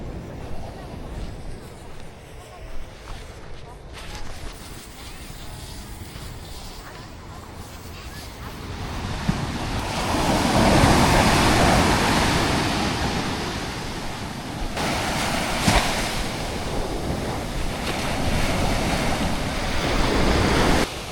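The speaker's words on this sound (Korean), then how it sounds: "제가 또 이 파도 소리를 들으니까" Ocean waves break along Sokcho beach in a broad, continuous wash that swells louder midway and stays rough, with wind buffeting the microphone and faint voices in the background.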